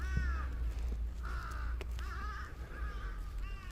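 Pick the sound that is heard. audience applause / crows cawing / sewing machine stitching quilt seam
crows cawing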